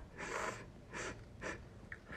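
Three quick nasal sniffles in a row, close and quiet, each a short breathy rush of air, with nothing else heard around them.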